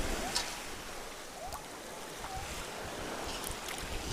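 Sea waves wash and surge around someone standing in the water, a continuous rushing hiss with gusty wind buffeting the microphone and a few faint splashes.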